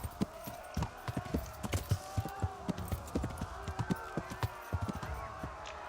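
A horse gallops in Kingdom Come: Deliverance, its hooves clip-clopping in a steady, rhythmic run that stays close and prominent over a faint background bed for the whole stretch.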